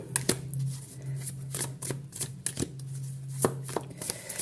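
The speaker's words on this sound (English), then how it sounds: "So let me shuffle a little bit the cards." Tarot cards are shuffled by hand in irregular riffling bursts and soft slaps, close and crisp over a faint steady hum, with no talking.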